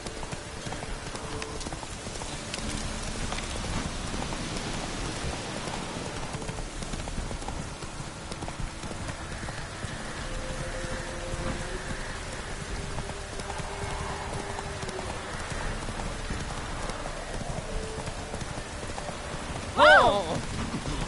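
The horse Roach gallops in a PS4 video game, hooves clip-clopping in a continuous rhythm amid rain-like ambience and game sounds, with a brief louder burst near the end.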